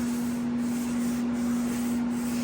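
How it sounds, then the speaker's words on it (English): Power sander working over the body of a 1985 Jeep CJ7 during restoration, a steady loud motor hum with a constant tone and gritty abrasive rasp, unbroken and close. "Overlap the sander at the very end, right?"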